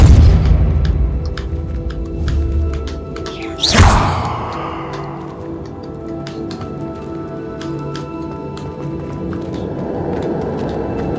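A Depulso force spell in the Hogwarts Legacy video game lands as one sharp, loud burst a few seconds in. Steady game ambience hisses before and after it.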